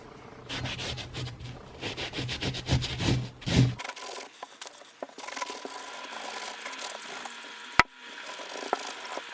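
Scotch-Brite pad scrubbing a brake caliper bracket for a Saab 9-3 Aero, a close, steady rubbing and scraping that is loud for about four seconds, then softer, with one sharp knock near the end.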